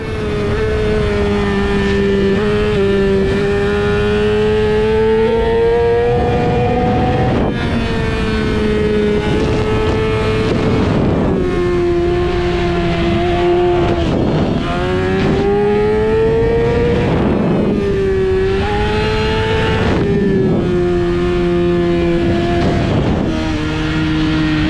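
Motorcycle engines roar loud and close throughout a race at the Podium Club track, pitch climbing through each gear and dropping sharply on every shift, repeating in steady surges.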